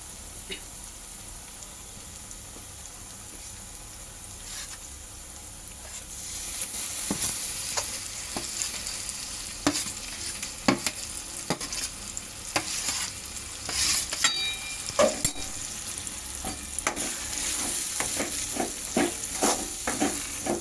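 Mashed pav bhaji vegetables being stirred into a sizzling onion-tomato masala that has released its oil; a quiet pan simmer gives way to repeated rhythmic spatula scrapes and clacks over a constant close sizzle.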